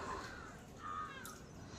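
A crow caws a couple of times, the harsh calls fairly faint against steady outdoor background noise.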